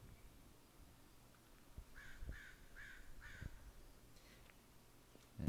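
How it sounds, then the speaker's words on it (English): Crows caw four times in a quick series from a moderate distance over quiet outdoor ambience on a disc golf course during a tournament round, with a few fainter calls trailing after. "Crows are out razzing you guys, as they always do."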